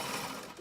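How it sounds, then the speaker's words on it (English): A sewing machine stitching shirring elastic into fabric for a jumpsuit, running as one steady, close whir with no break and no voices. "So I'm going to sew"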